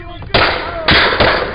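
Police gunfire cracks out in a tense street confrontation, two or three sharp, loud reports in quick succession over background shouting and commotion.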